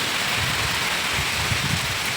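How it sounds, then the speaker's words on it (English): Steady, dense rain falls throughout a tropical storm in Jamaica, a continuous loud hiss with low rumbling gusts of wind and no talking. "I see the rain they fall."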